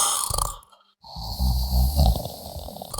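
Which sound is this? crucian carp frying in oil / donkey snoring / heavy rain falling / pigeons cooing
donkey snoring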